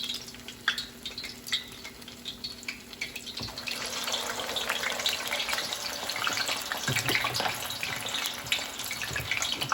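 Cold water runs from a kitchen tap as hands are dipped under it while making hot water cornbread, faint at first, then a louder, steady splashing gush with small clinks, and no one speaking.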